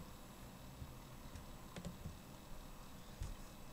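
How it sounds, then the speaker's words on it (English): Computer keyboard keys tapped while typing commands into an Ubuntu terminal, a few faint, sparse clicks over steady background hiss. "I am typing the commands that were mentioned in the previous slide"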